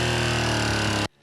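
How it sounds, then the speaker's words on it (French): A motorcycle engine running again after refusing to start and being cooled with water, giving a loud, steady, droning hum that holds evenly and then cuts off abruptly. "L'engin est à nouveau en marche."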